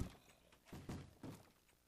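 Wooden door in Minecraft opening and closing, two or three dull thunks at an even rhythm, fairly quiet and close, with no talking.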